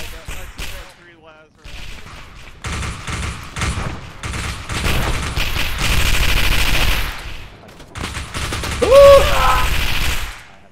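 Automatic weapon fire in an Arma 3 Warhammer 40K battle, with repeated loud bursts and rattling volleys broken by brief pauses while voices talk over the shooting.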